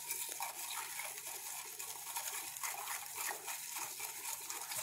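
Ice and salt water stirred in a container during a freezing-point lab, giving a steady, close wet swishing with faint clinks of ice, continuous and fairly quiet, with no voices.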